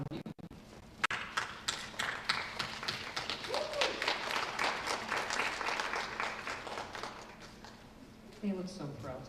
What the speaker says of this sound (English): So if I could have the graduates stand up to give their guests a round of applause